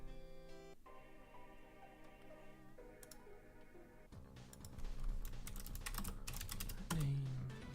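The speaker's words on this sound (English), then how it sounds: "I'm over here typing when I should be watching this game." Computer keyboard typing during a livestream of the game Bit Heroes, with rapid clicks over steady background game music that gets louder partway through.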